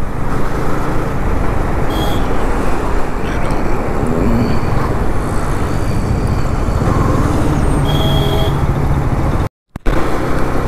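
Busy city road traffic heard from a Yamaha MT15 motorbike on a light-rain day in Hyderabad, a loud continuous rumble of engines and wind with brief horn-like tones, cut by a short dropout near the end.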